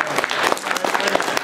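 Audience at a MAGFest gaming convention panel applauds steadily throughout, a dense wash of clapping from a crowd in a hall with some cheering mixed in.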